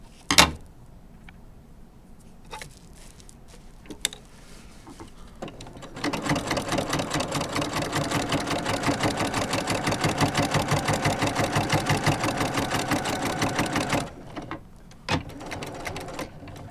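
Sewing machine stitching a quilted mug rug, a steady close rapid chatter of needle strokes lasting about eight seconds, framed by a few sharp clicks and thread snips before and after, no talk.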